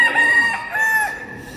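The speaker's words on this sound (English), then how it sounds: "It's a chicken. There's a rooster in the cave." A rooster crows inside a Hindu temple cave in Kuala Lumpur, one clear, moderately loud drawn-out call with a second rising phrase, slightly echoing in the enclosed space.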